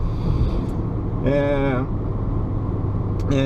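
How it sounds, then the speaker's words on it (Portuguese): A Fiat Mobi engine strains under full throttle, giving a loud, steady low drone that runs the whole time, with a brief voice-like tone rising over it midway. "O motor sofre muito, ó. Eu tô com o pé embaixo aqui, ó, e o carro não desenvolve, não vai."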